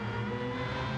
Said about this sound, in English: the rotary engine has such a nice tall scream